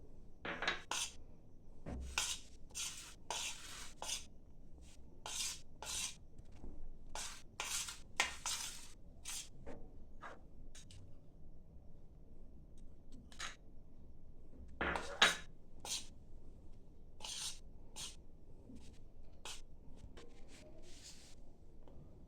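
A spoon stirs milk powder into peanut mixture in a metal pan for peanut barfi, scraping and clinking in repeated short strokes at close range. The strokes come with brief pauses between them and there is no talking.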